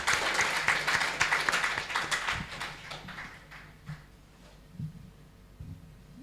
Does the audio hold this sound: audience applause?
yes